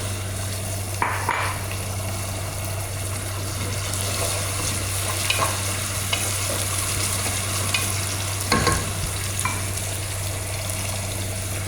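Onion and chili frying in a pan, giving a steady, loud sizzle throughout with a few clinks and stirring knocks, no voices.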